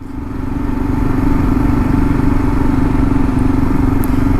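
Motorcycle fitted with fat handlebars out on a ride, its engine humming loudly and steadily with a constant rumbling drone and wind noise, no talk.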